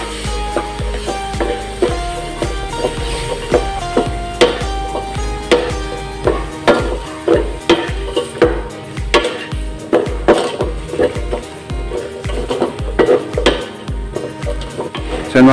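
Bitter gourd and string beans sauté in a pan with pork for Bicol express, steady sizzling under repeated sharp scrapes and clanks of a utensil stirring against the pan, with background music.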